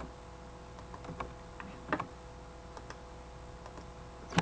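Computer keyboard keys tapped in scattered, uneven clicks, fairly faint and close, with a couple of sharper presses standing out and no talking over them.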